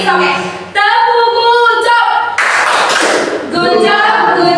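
Schoolchildren in a classroom clap together in quick rhythmic bursts, loud and close, mixed with chanting voices.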